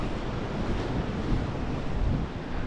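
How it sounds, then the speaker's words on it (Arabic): Rough sea waves breaking on the shore at Imsouane, Morocco, a dense, steady roar of surf mixed with wind buffeting the microphone, with no voices. "البحر اللي هو واعر"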